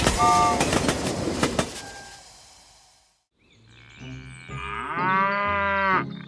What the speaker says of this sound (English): Look, a herd of cows is standing near the railway, munching on leaves.